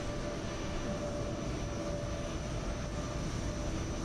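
An airliner departs in a flight simulator at Edinburgh airport, a steady, moderately loud engine roar with a faint whine held constant throughout, no voices.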